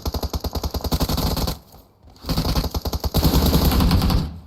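Automatic gunfire in PUBG Mobile: rapid bursts of shots, a brief lull near the middle, then more sustained loud volleys close at hand.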